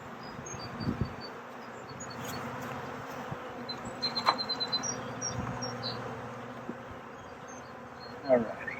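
A swarm of honey bees buzzing steadily up close as they are tipped into a hive, with a few soft thumps and knocks against wood amid the continuous humming drone.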